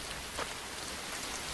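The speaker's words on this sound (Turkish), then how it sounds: "Yağmur dümdüz yağıyor." Steady rain pours straight down on a wet Scottish evening, a dense continuous hiss of drops on surfaces at even loudness throughout.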